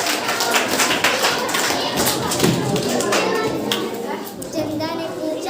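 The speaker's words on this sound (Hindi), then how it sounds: "बजाते रहो तालियां जब तक करिश्मा पहुंच नहीं जाती" A crowd of children at a school assembly keeps up continuous clapping as a classmate comes forward, the claps blurring into a busy patter mixed with children's chatter and shouts.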